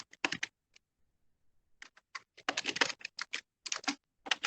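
Close computer keyboard typing while editing text in Word: quick clusters of crisp keystrokes, a short quiet gap, then denser runs of rapid clicking with brief pauses between them.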